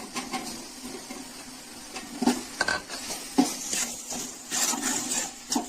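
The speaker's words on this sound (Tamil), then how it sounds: "நல்லா கிளறி விடுங்க தக்காளி போட்டு ஒரு ரெண்டு நிமிஷம் போல வதங்கிருக்குங்க" Chopped tomatoes sauté in a pan for vegetable biryani, a soft sizzle broken by irregular clinks and scrapes of a spoon stirring against the metal, loud and close.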